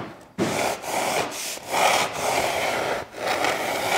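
Hand sanding smooths jigsaw-cut edges of soft poplar-faced plywood in close, scratchy rubbing strokes that come in several rhythmic bursts, each separated by a short pause, with no talking.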